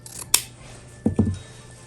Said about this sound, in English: I'm gonna cut about 30 inches